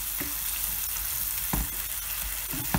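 Mashed eggplant with spices, green chili and coriander is stirred and pressed in a hot oiled pan, giving a constant dense sizzle broken by a few scraping knocks of a spatula.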